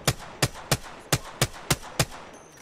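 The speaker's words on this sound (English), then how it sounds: "Those are good shots, bro." Gunfire in the video game Apex Legends: seven sharp shots at a steady rhythm, spaced roughly a third of a second apart, then a short quiet tail.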